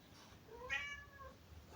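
Close by, a cat gives a single clear, rising-then-falling meow in a quiet room, faint and alone with no talking.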